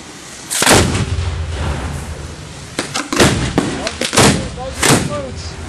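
Ground-level fireworks display in Simsbury, Connecticut, with several loud, sharp launch booms and bursts spaced a second or two apart, echoing outdoors while people talk nearby.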